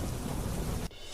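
Heavy downpour with thunder during a storm in Mandi, Himachal Pradesh: dense, steady roaring rain noise that cuts away abruptly near the end, leaving a thinner wash of rain.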